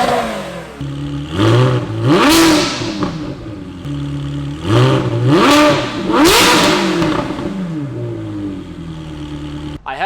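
A Ferrari engine fitted with an Alibaba titanium exhaust revs sharply several times, each blip rising and falling, loud and close, with a quieter idle between bursts.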